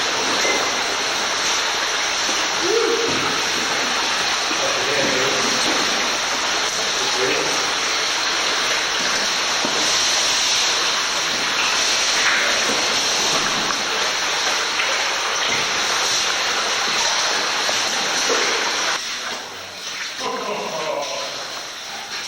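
A stream rushing through a scalloped cave canyon gives a loud, steady broadband roar of flowing water that holds for the whole stretch, with faint low voices and bumps near the end.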